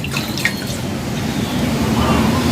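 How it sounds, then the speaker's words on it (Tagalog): Water splashes and drips softly as a face is rinsed with warm water over a basin, a continuous close, trickling wash with a few louder splashes near the start. "mabanlawan natin yung mukha natin"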